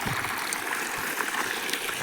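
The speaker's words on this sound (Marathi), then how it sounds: "आपल्या बोरचं पाणी चालू आहे तर घास भिजवायला" Borewell water flows in a steady, gurgling rush, fairly soft and continuous, with no other sounds over it.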